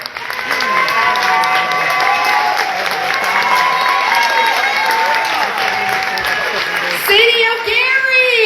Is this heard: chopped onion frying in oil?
no